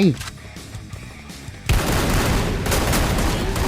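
Sustained heavy gunfire from a match of the video game Free Fire, with a sudden dense burst of shots and booms kicking in partway through and continuing loudly to the end, preceded by quieter game sounds and a voice.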